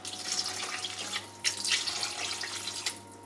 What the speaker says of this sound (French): pour un mug de lentilles, je vais mettre 3 mugs d'eau pour être sûr qu'elles soient bien cuites